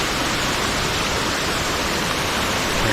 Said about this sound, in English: Pretty cool though, the waterfall